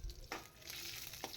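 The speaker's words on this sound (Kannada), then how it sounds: "ಇವಾಗ ಇದಕ್ಕೆ ಬ್ಯಾಡಗೆ ಮೆಣಸಿನ್ಕಾಯಿ ಹಾಕ್ಕೊಂಡು ಒಂದು ಸ್ವಲ್ಪ ಫ್ರೈ ಮಾಡ್ಕೊಳ್ಳೋಣ" Byadgi red chillies frying in hot oil with mustard seeds for a kabuli chana kurma, giving a brief, faint sizzle with a couple of soft crackling pops.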